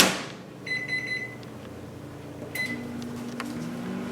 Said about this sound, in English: I have 2 cups of water here that I'll be putting in the microwave, heating it up for 1 minute